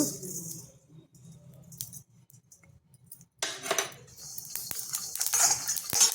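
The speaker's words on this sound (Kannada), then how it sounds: "ಈಗ ಕಡಲೆಕಾಯಿ ಬೀಜನ ಹುರ್ಕೊಳ್ತಾ ಇದ್ದೀನಿ" Peanuts and sesame seeds dry-roasting in a pan, with light clinking and scraping of a spoon against metal, scattered rattles and a busier stretch of stirring toward the end.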